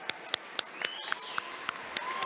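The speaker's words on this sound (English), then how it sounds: "All right, another round of applause." Applause at a medical school white coat ceremony: a handful of separate, sharp claps spaced out in the hall, faint and thin, with a soft murmur and a brief voice beneath.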